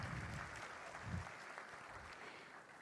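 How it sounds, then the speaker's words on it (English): A crowd applauds at the Tech Invent 2022 inauguration ceremony at Chandigarh University, a steady, distant wash of clapping heard faintly and slowly tapering off. "A huge round of applause for this inauguration ceremony."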